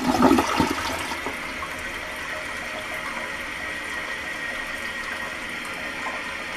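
A toilet tank refills after a flush, opening with a brief gurgling rush and then settling into a steady, hissing stream of water that runs to the end without talking.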